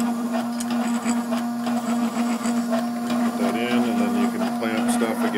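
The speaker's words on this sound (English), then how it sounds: "you can see here, it's still engraving away" A Vision Max Pro engraving machine runs steadily, giving a continuous close mechanical hum with a strong tonal whine and shifting motor pitches as it works, with no talk.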